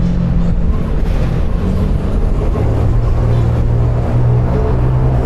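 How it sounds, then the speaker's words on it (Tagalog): A Fortress 160 motorcycle engine with its loud exhaust drones steadily and close by, a rough low rumble with wind noise mixed in throughout, with no talking. "Grabe ingay ng motor no, no? Yung tambucho."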